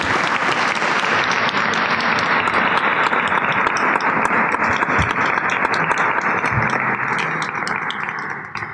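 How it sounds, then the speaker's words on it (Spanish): Applause from the audience at a round-table panel event, thanking the participants, a dense, loud, continuous burst of clapping that holds steady and then begins to taper near the end. "les damos un fuerte aplauso a todos nuestros participantes"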